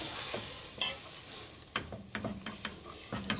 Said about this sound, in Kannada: ಈಗ ಟೊಮೊಟೊ ಹಾಕೊಳ್ಳೋಣ ಫ್ರೆಂಡ್ಸ್ ಇದು ಚೆನ್ನಾಗಿ ಕೈಯಾಡಬೇಕು